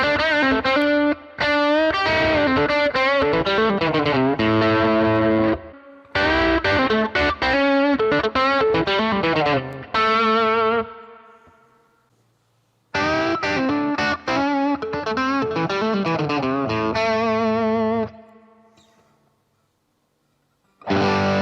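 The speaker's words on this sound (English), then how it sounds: "here's some tones with a bit of gain added on with the drive block in the AX8, just using a tube screamer" Electric guitar played through a Fractal AX8 with its Tube Screamer drive block adding mild gain, heard as loud, sustained overdriven chords and note runs in three phrases, with a low lingering tone and short silences between them.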